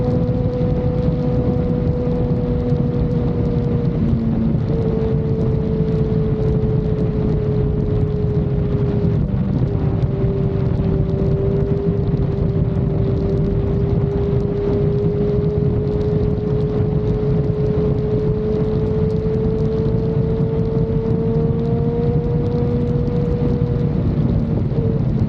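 A Kawasaki Z1000R motorcycle holds full throttle on the road in a steady, loud engine drone with a rising and falling pitch, heavy wind rush over it throughout and no voices.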